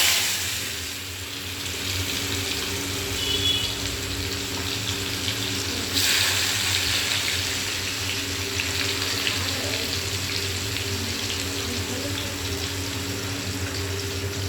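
Chopped onion hits a pan of fried potatoes, giving a steady hissing sizzle that swells brighter partway through and carries on close and even, with no talk.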